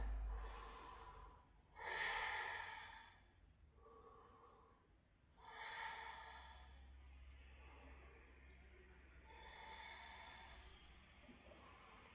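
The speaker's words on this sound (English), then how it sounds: "Take a few breaths." Slow, audible breaths during a yoga balancing pose, several long inhales and exhales spaced a few seconds apart, close and soft in a quiet room.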